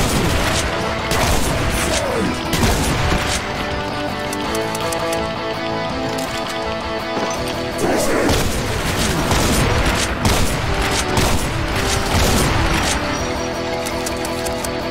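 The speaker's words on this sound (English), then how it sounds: "Gotta love shotgun" A shotgun fires repeatedly in the Doom mod Project Brutality, with loud booming blasts and reload clanks in a dense, continuous stretch of game combat sounds and explosions.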